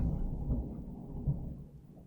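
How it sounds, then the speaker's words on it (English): A low, distant rumble of thunder rolls on for a couple of seconds, soft and muffled, with no other sounds around it. "I don't know whether you heard that thunder there"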